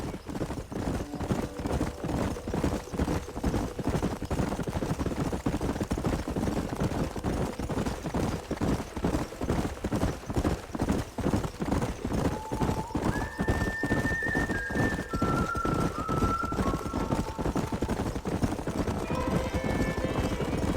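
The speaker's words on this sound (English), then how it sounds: "There's the horses!" Horses in the Red Dead Redemption video game: rapid rhythmic hoofbeats clip-clopping at a gallop throughout, with several whinnies and neighs rising over the hooves in the second half, no voices.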